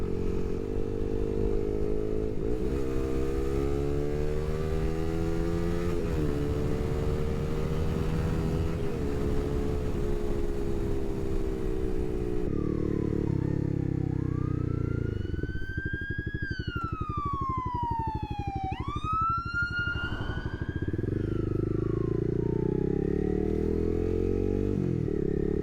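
A motorcycle engine runs loud and close as the bike rounds a corner, its pitch rising and falling with throttle changes, then revving sharply upward in a series of quick climbs near the end.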